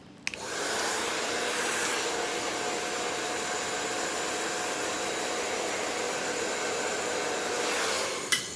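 A hair dryer blow-dries a blunt textured bob over a round brush, switching on with a click and holding a loud, steady whooshing drone for about eight seconds before cutting off.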